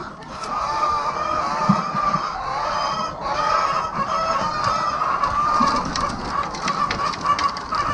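Laying hens on a layer farm fill the air with a steady, dense chorus of clucks and murmuring calls, close and continuous, with occasional louder squawks rising above the flock.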